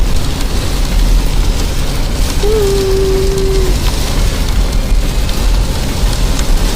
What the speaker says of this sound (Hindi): बहुत बहुत ज़बरदस्त वाली बारिश हो रही है, बहुत प्यारा मौसम हो रहा है।